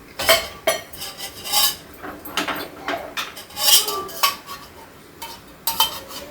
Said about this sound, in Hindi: तो हम इसमें कड़छी रख दे रहे हैं।